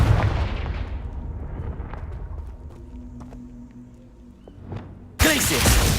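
Booming blast of the Confringo spell in the Hogwarts Legacy video game, loud and rumbling with a long decaying tail, then a second harsh burst of game effects at the end.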